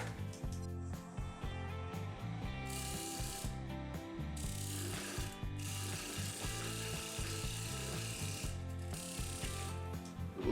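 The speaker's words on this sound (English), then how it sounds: "I'm going to use my 1/2 inch skew chisel with a peeling cut to put a tenon on the end." Wood lathe turning very dry, cracked wood while a 1/2 inch skew chisel takes peeling cuts, giving a steady rattling, ratchet-like chatter with brief breaks, close and continuous, no talk.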